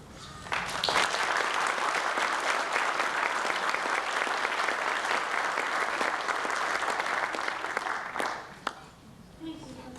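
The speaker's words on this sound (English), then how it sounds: "I just think he deserves a round of applause." A commencement ceremony audience gives sustained, even applause, a full, loud wash of many hands clapping for about eight seconds before it drops off abruptly into quiet.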